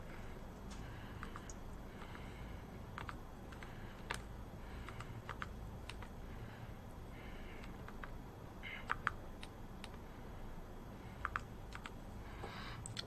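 Keys are tapped on a calculator to enter an exponent calculation: scattered light clicks at an uneven pace, close but faint over a steady background hiss.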